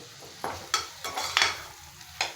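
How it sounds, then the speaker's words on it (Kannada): Vegetables and tomato frying in a pan for vegetable pulao, with a soft sizzle underneath and several distinct scraping stirs of a spoon against the pan at irregular intervals, close and fairly quiet. "ನೋಡಿ ಇದೆಲ್ಲ ಫ್ರೈ ಆಯಿತು ಚೆನ್ನಾಗಿ ಇವಾಗ ಟೊಮೊಟೊ ಹಾಕೋಣ"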